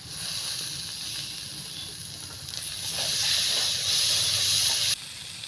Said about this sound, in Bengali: এখন দিয়ে দিব টমেটো কুচি। টমেটো কুচি দিয়ে দিচ্ছি।